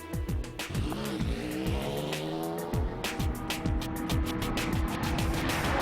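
An Audi R8 race car pulls away on a soaking wet Le Mans endurance track at the Nürburgring in heavy rain, engine revving hard through repeated rising gear changes with tyre hiss, loud and close, no talk.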